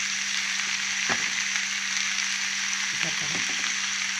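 Pieces frying in oil in a pan give a steady, bright sizzle that runs throughout at even loudness, with a faint low hum and a few soft clinks as a voice speaks briefly over it.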